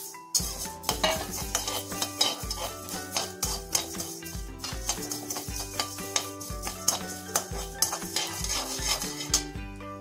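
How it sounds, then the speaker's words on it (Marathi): Coriander seeds and spices dry-roasting in a pan, busy rattling and scraping of a spoon against metal with seeds skittering, continuous and fairly close, no talking. "हे सगळे पदार्थ आपल्याला जरासे ताट होतोपर्यंत भाजायचे"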